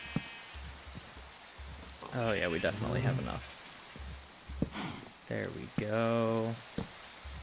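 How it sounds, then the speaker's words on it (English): Steady rain falls in the Minecraft video game as a soft, even patter, while someone talks over it. "The rain is quite relaxing in this game"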